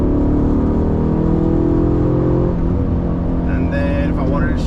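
A manual car's engine hums steadily and loudly as the driver gives it gas, its pitch shifting near the end, while someone talks over it.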